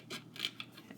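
Scissors snipping out small paper pieces for a 12x12 scrapbook page layout, several quick close cuts with a crisp rasp in a quiet room.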